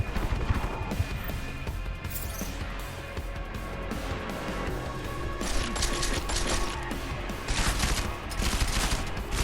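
Dense, sustained gunfire in the Deus Ex: Mankind Divided video game, a loud continuous barrage of shots with crashing impacts layered over a heavy low rumble, bursts intensifying toward the end.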